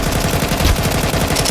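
AK rifle firing in the video game Counter-Strike, a rapid sustained burst of loud, evenly spaced gunshots with no talking.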